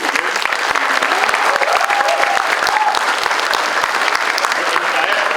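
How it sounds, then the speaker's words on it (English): Audience at a memorial lecture on sports gives a sustained round of applause, dense steady clapping filling the hall at even loudness from start to finish. "There is a very, very, very big round of applause you need to give."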